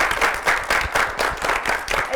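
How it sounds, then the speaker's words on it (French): Audience applause at a French youth debate on school beauty pageants, a steady wash of many hands clapping in a hall with a mild pulsing rhythm, a voice faintly mixed in. "Applaudissez pour vous-même"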